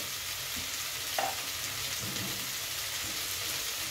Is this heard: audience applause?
no